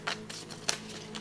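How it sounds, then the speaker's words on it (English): Tarot cards being shuffled by hand, heard as three or four quick, crisp riffle bursts close by, with a faint steady hum underneath and no talking. "Let me get some more shuffles before I cut this back."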